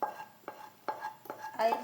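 Metal vessels clink and scrape in a short series of four or five knocks while a cooked mixture of coconut, milk powder, ghee and jaggery is moved into another pot, heard close and fairly quiet.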